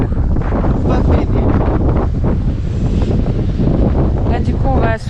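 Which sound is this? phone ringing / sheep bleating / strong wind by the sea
strong wind by the sea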